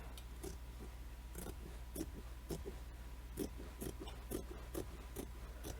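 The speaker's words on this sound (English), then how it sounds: "If I had sharper scissors, this would be a lot easier." Dull scissors cutting quilt fabric for a crazy quilt block, a steady series of soft, close snipping and rasping strokes over a low constant hum.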